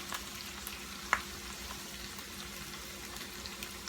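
Onions fry in a pan for a breakfast hash, a steady soft sizzle that stays even throughout, with one brief small clink partway through.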